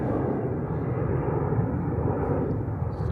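A Boeing P-8 military jet departs Hickam in Honolulu, its engine a steady, loud, broadband roar that holds throughout without any other sound.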